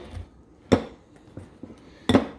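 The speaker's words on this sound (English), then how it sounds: "what we want to do is cut this butter into the flour sugar" Butter being cut into flour and sugar in a mixing bowl for banana muffins, giving a few separate clinks and scrapes of a pastry cutter against the bowl, close and fairly quiet with gaps between.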